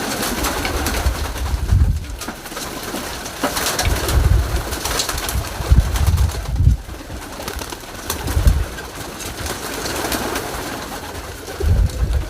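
Racing pigeons that are top-color 700 km finishers coo in low, soft, throaty phrases that repeat close by over a steady background hum, with no talking.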